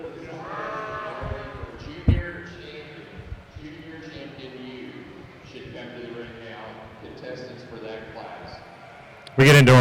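White Lincoln yearling ewes bleating in a sheep show ring, several wavering calls scattered under an announcer's steady talk, with a sharp clatter near the start and a loud burst at the end.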